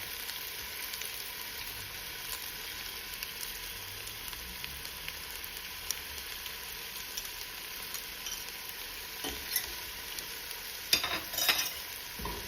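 Onion and minced garlic sauté in a pan for Mexican potato and cheese soup, giving a steady, even sizzle throughout with a few louder crackles and stirring scrapes near the end.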